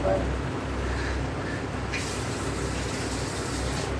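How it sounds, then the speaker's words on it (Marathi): Hands are washed under running water, a constant loud gush of tap water that brightens and strengthens about halfway through. "हात धुते"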